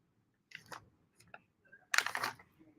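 A dog crunching Yaki Puffs, a cheese and peanut butter treat: close, crisp bites in a couple of short bursts, the second louder and longer, with quiet gaps between.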